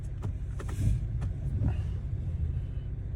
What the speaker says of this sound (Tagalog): Oh, traffic.